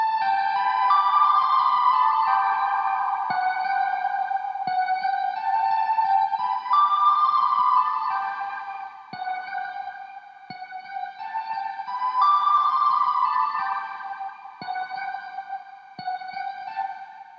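A drum and bass synth melody of short, fast MIDI notes, bright and effected with echo-like smear, running continuously for several bars with no talk.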